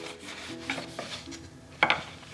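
Oil finish being rubbed by hand into a wooden M1903 drill rifle stock, soft close rubbing and swishing strokes with a couple of sharper scuffs near the end.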